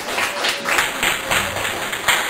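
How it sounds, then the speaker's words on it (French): An audience of children and adults at a church school day applauding for Marlène, a moderate, steady patter of clapping hands with a faint high electronic whine in the background. "on va applaudir pour Marlène"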